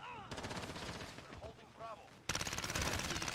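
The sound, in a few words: shotgun gunfire in Modern Warfare video game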